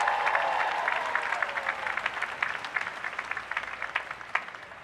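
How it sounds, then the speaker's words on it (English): A large graduation crowd at the UVA Final Exercises gives sustained applause for the faculty, dense clapping that gradually thins toward the end, heard alone and at moderate distance. "Please join me in giving them a huge round of applause."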